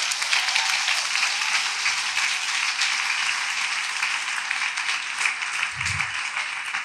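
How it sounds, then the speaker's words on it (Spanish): Loud, continuous applause from a church congregation, a thick hiss of many hands clapping at once, steady from start to finish with only a brief low thump. "Si le va a dar el aplauso al Señor"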